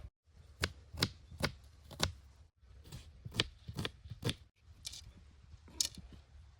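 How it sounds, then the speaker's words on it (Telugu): Onions, chillies, tomatoes and capsicum being chopped outdoors with a knife, quiet crisp cuts in short irregular bursts of three or four, separated by brief pauses. "దోస్తులు మన కూరగాయలు కట్ చేసుకునేది అయిపోయింది"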